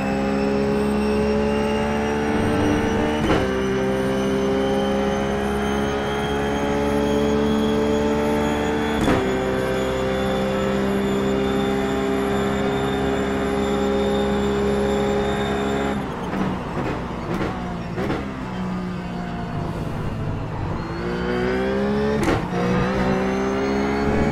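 A Ruf race car laps Interlagos in iRacing, its engine droning at high revs with steady harmonic whine, then dipping and climbing through gear shifts as it brakes and accelerates through a corner, loud and close with no speech.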